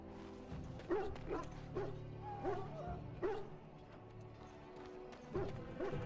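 Hounds barking in the army camp kennels of the video game Dragon Age: Origins, with several sharp, spaced barks and yips over steady low camp ambience.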